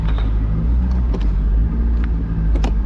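A 2000 Chevrolet C5 Corvette idles with a constant low rumble during a transmission test in a wrecking yard shop, with faint clanks and knocks in the background.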